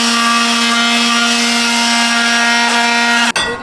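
A small Ozito electric sander runs loud and close with a steady high whine and rough buzz, then cuts off abruptly near the end.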